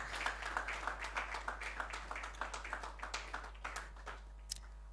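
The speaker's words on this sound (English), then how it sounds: "we need to be very generous with our applause." An audience at an AI summit in Nigeria claps in a quick, scattered patter that tapers off toward the end, with no voices over it.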